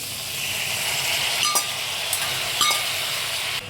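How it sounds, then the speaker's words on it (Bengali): Boiled pumpkin greens hit a hot pan of fried vegetables with a steady, close hissing sizzle and a few light metallic clinks from the utensil, with no voices. "সবজিগুলো ভাজা হয়ে গেছে, এবার আমি সেদ্ধ করা শাকটা দিয়ে দিচ্ছি।"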